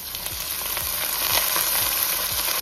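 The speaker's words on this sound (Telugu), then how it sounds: "ఇప్పుడు పచ్చిమిర్చి, బిర్యానీ ఆకులు, పుదీనా, కొత్తిమీర వేసి వేపాలి." Green chillies, bay leaves, mint and coriander frying in a pan for coconut milk rice, giving a loud, steady sizzle with faint crackles and no voices.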